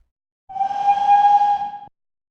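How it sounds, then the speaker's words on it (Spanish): The alert tone of seismograph R5D53 at Tetela on Popocatépetl volcano sounds as a single steady whistle-like beep with bright harmonics, lasting about a second and a half, loud and clean against silence. "es la alerta del sismógrafo R5D53 de Tetela del volcán"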